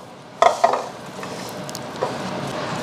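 Utensils scrape and tap as urap ingredients are stirred and mixed in a bowl, a few close clicks early on, then quieter, soft mixing.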